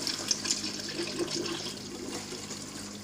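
Water flowing and trickling steadily from an aquaponics standpipe, a soft continuous splashing stream close by, with no voices.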